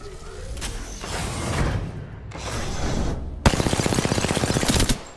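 Automatic gunfire in the battle-royale game Apex Legends, with a sustained rattle of shots and then a sharp, rapid burst of evenly spaced rounds near the end, loud and close.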